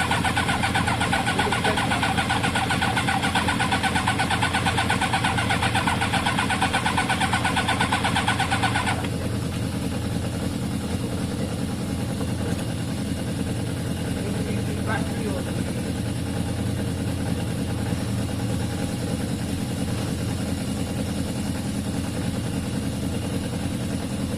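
A Kawasaki ZL600 motorcycle engine runs roughly on a restart attempt, a loud broadband clatter for about nine seconds that then cuts out, leaving a steady low drone and background noise.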